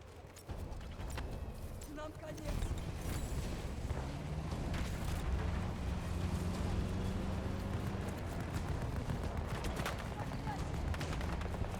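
Battlefield 2042 gunfire in a sustained exchange, with scattered shots and bursts, some nearer and louder, over a constant rumbling battle background.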